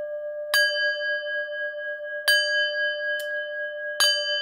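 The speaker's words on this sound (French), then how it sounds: "Alors, pourquoi le gong?" A gong struck four times at uneven intervals, each sharp attack blooming into a steady, ringing shimmer of sustained tones that never fully decays, heard alone and fairly loud.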